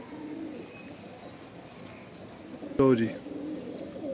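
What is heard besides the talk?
pigeons cooing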